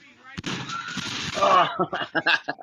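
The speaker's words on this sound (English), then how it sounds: "Family is Forced to Run for Their Lives from a Firework Explosion." A firework explosion caught on home-video footage played back, with a sharp burst followed by a roar of noisy blast and scattering crackle, then choppy bangs and commotion fading out, loud and fairly close.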